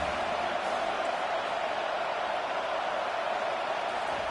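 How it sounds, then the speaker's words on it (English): A stadium crowd roars on third down in an NCAA football video game, a dense, loud, unbroken wash of cheering noise holding steady throughout. "These fans are going absolutely nuts."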